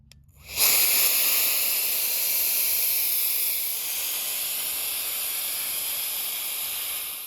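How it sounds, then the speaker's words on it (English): A WOLFBOX MegaFlow200 cordless air duster starts with a sudden whoosh and then blows a steady loud high-pitched airy hiss close by, easing slightly in strength partway through. "today I'm checking out the WOLFBOX MegaFlow200 air duster"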